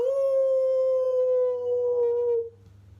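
One long human howl imitating a wolf, loud and close, held steady for about two and a half seconds before breaking off into quiet, performed during a storytelling session at a festival.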